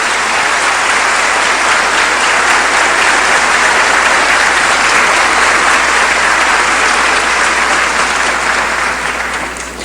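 An audience at a Catholic religious gathering breaks into loud, sustained applause for nearly ten seconds, dense clapping from a large crowd that tapers off slightly at the end.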